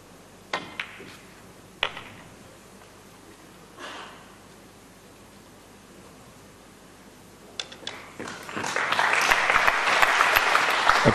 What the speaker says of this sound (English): Appreciative applause, rightfully so.